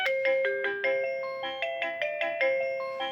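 An AVANTEK wireless doorbell chime plays a song melody in clear electronic bell-like tones, a steady sequence of notes with no voices.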